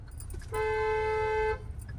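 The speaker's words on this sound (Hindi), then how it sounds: "हॉर्न दो" A single steady car horn blast lasts about a second over low engine rumble, close and loud.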